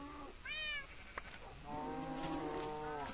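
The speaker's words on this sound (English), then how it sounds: "Okay, Mr. Kitty." Cat meowing in Minecraft, a short mid-pitched meow followed by a longer drawn-out mew, fairly close and clear over faint background sound.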